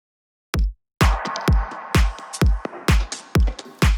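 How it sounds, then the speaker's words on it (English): A four-on-the-floor kick drum pattern in an electronic track thumps in steady evenly spaced hits, each punchy low kick followed by a brief tail, with other percussive layers joining after the first beats; no voices. "we add a 4 on the floor kick pattern"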